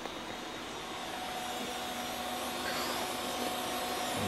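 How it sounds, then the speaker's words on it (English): Computers in a home server closet give off a steady broadband whir of fans, an even, constant hum with faint tonal lines and no talk over it. "behind me, you can hear the server closet"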